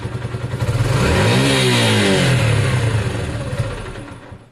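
A Honda CB250 motorcycle fitted with a Sinnis performance carburettor is opened to full throttle and struggles on the poorly running carb. Close and loud, the engine's pitch climbs, holds, then sags back down.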